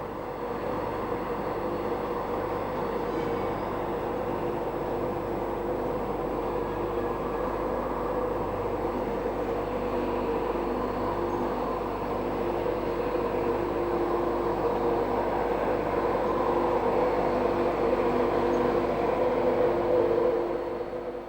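An LNER train from the north arriving at a London terminus on the East Coast line, a steady low rumble and drone of engine and wheels that holds evenly for about twenty seconds.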